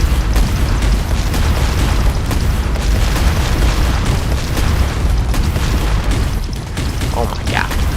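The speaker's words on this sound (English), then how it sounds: "the best way to get the biggest explosion out of this is to blow up the reactor" A ship's reactor blows up in Space Engineers, a dense, sustained roar of booming blasts and crackling debris that runs loud and continuous for the whole stretch, with a faint voice underneath.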